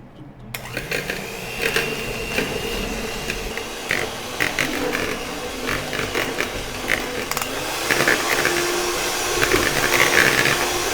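An old electric stand mixer beats butter biscuit dough, its motor whirring steadily at close range with irregular rattling and scraping bursts throughout.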